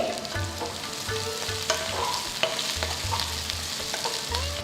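Ridge gourd goes into a hot pan of oil on lowered flame, crackling with a dense, close frying sizzle, and a few clanks and scrapes from the utensil break through it.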